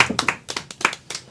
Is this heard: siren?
no